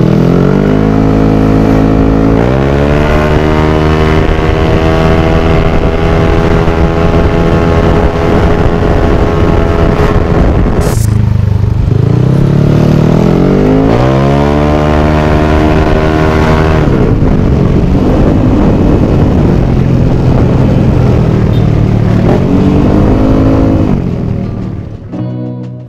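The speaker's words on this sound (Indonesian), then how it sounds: "masih nggak diangkat motornya, digaspol tetep gini." A 192cc Yamaha Aerox scooter engine revs hard and repeatedly at full throttle, climbing to a high whine, dropping and climbing again, loud and close throughout.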